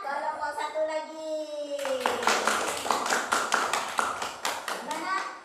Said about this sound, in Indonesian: tepuk tangan buat kelompok 1 lagi